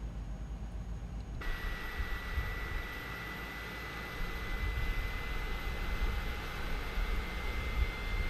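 Airbus A300 with Pratt & Whitney jet engines in a flight simulator game, a steady broadband engine roar with a thin high whine, continuous and even, no voices.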